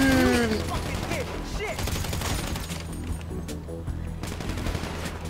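Rapid bursts of automatic gunfire in a Grand Theft Auto V online match crackle loudly at the start, then continue as scattered shots and chaotic in-game action, with a faint voice beneath.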